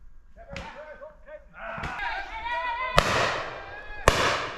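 Shotguns fired at a driven pheasant shoot: two sharp, loud blasts about a second apart, with earlier softer bangs and people talking throughout.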